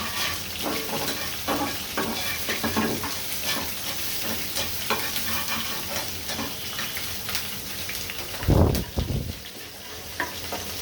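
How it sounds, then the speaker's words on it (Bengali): Shrimp fry with chopped onion and garlic in a hot pan, a continuous close sizzle layered with rhythmic stirring scrapes and a heavier thud of something being moved or added near the end. "পেঁয়াজটা রসুনটা আমি হালকা ভেজে নিয়ে চিংড়ি মাছটা দিয়ে দিব।"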